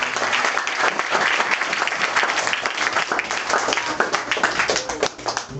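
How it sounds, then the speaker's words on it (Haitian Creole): A church congregation applauds during a revival worship service, sustained dense clapping filling the room at steady loudness throughout, with some voices mixed into the crowd noise. "On applaudit le Seigneur."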